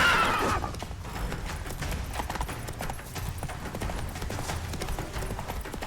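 Roach, Geralt's horse in The Witcher 3, gallops with steady, close clip-clop hoofbeats running throughout, amid game ambience and a brief whinny near the start.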